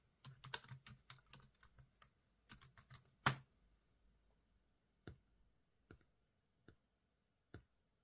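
Bursts of quick keyboard typing, crisp clacking keystrokes in clusters, then a few isolated single key taps spaced apart; no voices.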